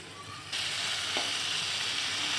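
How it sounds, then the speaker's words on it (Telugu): Cluster beans tipped into a hot pan with oil, turmeric and spice paste for a simple curry; a loud, steady frying sizzle jumps in and keeps going, with a faint stir partway through and no voices. "ఇప్పుడు గోడ్చిక్కుడుకాయలు వేసుకుందాం"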